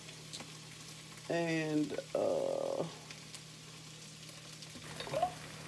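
Ground turkey fries in a pot with onions for chili, a quiet sizzle and stirring under a low steady hum, with a few brief spoken sounds.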